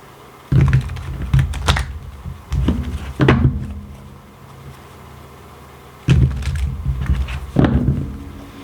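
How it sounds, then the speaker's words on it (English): Tarot cards are laid out on a table in a series of sharp, close taps and soft thuds, grouped in short clusters with a pause in the middle. "Let me lay out the tarot."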